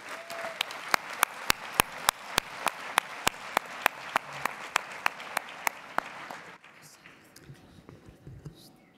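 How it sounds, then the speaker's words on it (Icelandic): Audience applause at a party national congress in Iceland for pioneering women, a dense wash of clapping with sharp regular claps punctuating it, lasting about six seconds before fading to quiet room murmur. "Ég bið ykkur að gefa þessum brautryðjendum og fyrirmyndum gott klapp"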